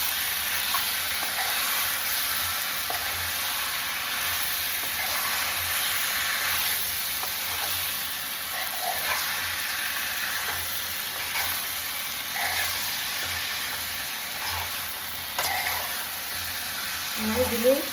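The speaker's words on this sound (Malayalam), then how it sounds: "കൂടെ നമ്മളെ ചിക്കനും കൂടി ചേർത്തിട്ടുണ്ട്. ചിക്കൻ ചേർത്ത് വെച്ച്" Chicken pieces for a chicken curry fry in a pan with onions, giving a steady, close sizzling hiss with occasional stirring scrapes and no talking, and a few louder clatters near the end.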